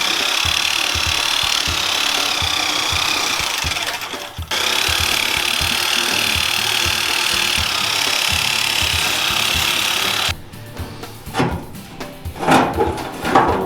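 A continuous, loud, harsh grinding from a power tool cutting the metal body of an FJ45 rock crawler. It runs steadily with one brief break, then stops, leaving quieter clanks and shop noise.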